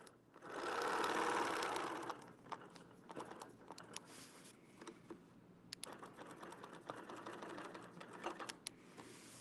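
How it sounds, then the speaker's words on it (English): A sewing machine stitches a quilt seam, first with a loud steady whir of fast stitching for about a second, then softer scattered needle clicks and mechanical ticks, with no talking. "I'm just going to stitch back to my ruler."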